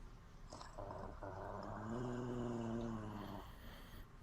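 Low, rumbling growls from three dog-like creatures swell and hold for a few seconds, throaty and close, with no talking.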